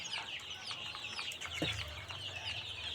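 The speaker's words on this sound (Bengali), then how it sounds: "এগুলো টাইগার মুরগি।" Tiger chickens cluck at a poultry farm, a dense chorus of quick, overlapping clucks and chirps close by, with a low hum underneath and no speech.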